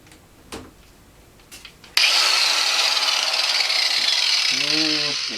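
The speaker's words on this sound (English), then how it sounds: "We just happen to have a cutoff wheel handy." Cutoff wheel grinding through metal in a workshop, a sudden loud harsh high-pitched screech that starts after a few quiet handling sounds and holds steady, with a voice briefly heard near the end.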